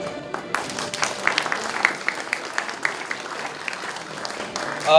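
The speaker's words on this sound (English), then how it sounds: "So please give them a big round of applause." Applause from a student audience at a KAIST Indonesia cultural event, steady dense clapping that fills the room for several seconds at moderate level.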